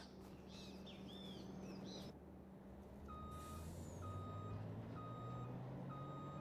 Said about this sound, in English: it just played the beeping noise like it was actually backing up